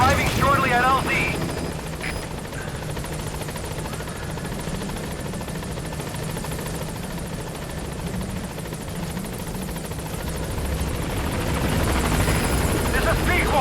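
The Pequod transport helicopter in Metal Gear Solid V arrives at a landing zone, its rotor thrumming steadily and loudly throughout while a radio voice talks over it.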